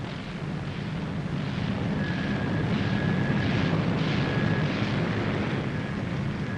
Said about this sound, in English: the first plane hauls her nose round into the wind